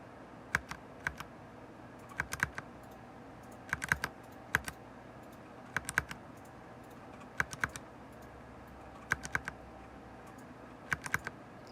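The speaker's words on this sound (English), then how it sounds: "you can make it go even quicker by just pressing enter a bunch of times" Enter key on a computer keyboard pressed over and over in quick pairs and short bursts, crisp clicking keystrokes at close range that repeat at roughly steady intervals against a quiet room.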